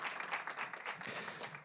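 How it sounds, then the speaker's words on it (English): An audience at a regional poetry recitation competition claps together in a dense, even burst of applause, steady and moderately loud throughout. "Let's give our students a round of applause"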